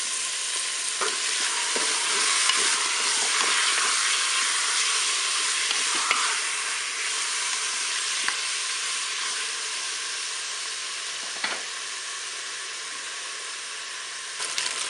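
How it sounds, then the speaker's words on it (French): Chicken thigh pieces and onions brown in a Cookeo multicooker with a loud, continuous close sizzle, broken by occasional small clicks and pops of spitting fat. "je vais faire revenir mes os de cuisse. Je vais ajouter mes oignons."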